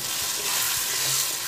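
Spiced potato curry with cumin, turmeric and salt sizzles in a pan while being mixed, a steady close frying hiss with soft stirring knocks.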